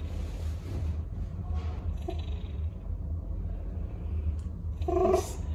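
A small pet cat recovering from illness purrs steadily and softly at close range, a low continuous rumble with a brief brighter rustle near the end.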